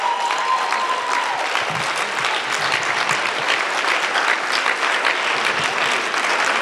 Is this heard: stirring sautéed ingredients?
no